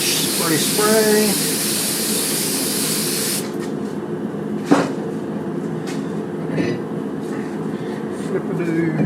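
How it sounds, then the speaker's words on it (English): Aerosol spray hisses from a can in a loud, steady burst for about three seconds during a brake rotor replacement on a two-wheel-drive Dodge Ram, followed by quieter workshop clatter and a sharp knock. "Spray."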